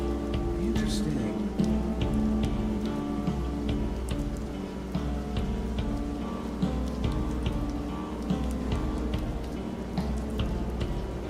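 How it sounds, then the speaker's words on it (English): Rain in the video game Kenshi patters steadily throughout, a dense ticking hiss of drops layered over sustained background game music tones. "Oh, and it was just raining back here."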